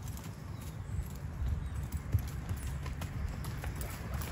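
Hooves of a young colt being schooled in a hackamore and snaffle bit beat out a steady, even clip-clop rhythm at moderate distance, with no talk.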